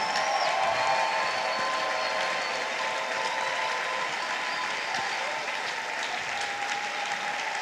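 A church congregation applauds and cheers in praise of God, sustained, dense clapping from a large crowd filling the room, steady in level, with voices mixed into the applause.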